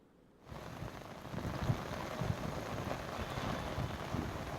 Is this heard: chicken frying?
no